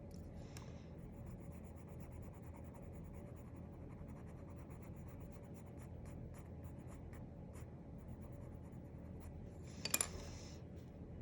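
A pencil shades on paper during a portrait drawing, a soft continuous scratchy rubbing close by and faint, with a brief louder scrape near the end and no speech.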